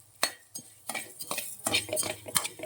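Dry coriander seeds stirred in a pan with a spoon while roasting, giving a string of close scraping and clinking strokes that come in quick irregular bursts, with no voices.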